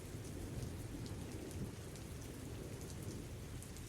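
Steady heavy rain pours down in a dense, continuous hiss, with low rumbling that suggests distant thunder, and no voices.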